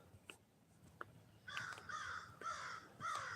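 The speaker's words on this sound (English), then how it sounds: "You hear the crows?" Crows caw repeatedly at a distance during an early morning walk in Wisconsin, a run of harsh calls in the second half over faint outdoor background and footstep-like ticks.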